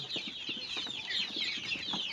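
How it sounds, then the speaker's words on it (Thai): A flock of one-month-old chickens in a pen clucks and chirps continuously nearby, dense overlapping calls with soft rustling beneath, no voices. "สองคอกนี่ก็จะเป็นคอกไก่เดือนหนึ่งนะครับผม"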